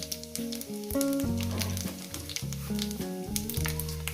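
Dried red chillies and five-spice sizzling in hot oil for a Bengali chorchori, a bright crackling hiss running under loud background music.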